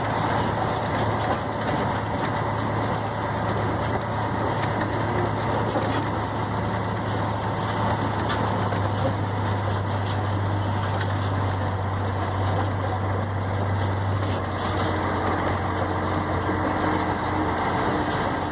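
A truck with a synchronized gearbox drives on after a gear change, its engine humming in a steady, moderately loud drone with a constant low tone and road rumble throughout, no talk over it.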